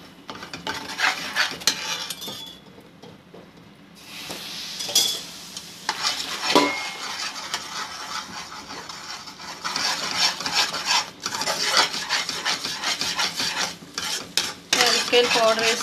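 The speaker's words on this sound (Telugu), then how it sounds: "యాలక్కాయల పౌడర్ వేసుకుని నూనె కొంచెం కొంచెం వేసుకుంటూ కలుపుకోవాలి." A spoon stirs cardamom powder and oil, added little by little, into a thick mysore pak mixture made with black chickpea flour. The pan scrapes and sizzles softly in a steady, continuous rhythm with brief pauses.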